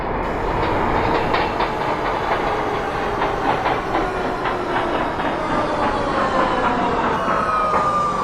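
NYC subway R211 train on the N line from Astoria in the OpenBVE simulator rumbles steadily, with a loud continuous roar, rhythmic wheel clatter and a rising motor whine, no voices.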